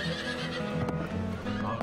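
Bucking bronco horses at a rainy rodeo whinny and neigh in repeated close, harmonic calls, with a brief knock or hoof clop partway through and faint voices in the background.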